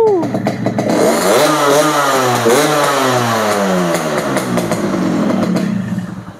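A 2002 Yamaha RX King two-stroke motorcycle runs just after a cold kick-start, loud and close. The engine note rises and falls in waves with a buzzy, raspy timbre and no pauses.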